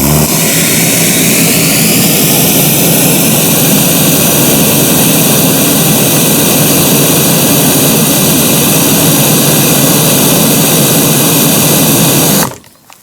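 A Stihl RE120 pressure washer runs on 17 metres of high-pressure hose with a rotary nozzle, a loud, steady whining roar held for about twelve seconds before cutting off abruptly.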